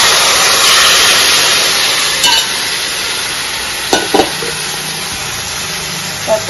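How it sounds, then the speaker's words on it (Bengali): Hilsa fish pieces fry in a pan with hot oil, cumin and slit green chillies, giving a loud, steady sizzle broken by a few soft clatters. "কাঁচা লঙ্কাটা একটু ভাজা ভাজা হয়ে যাওয়ার পর এখন মাছগুলো ঢেলে দেবো একটা করে"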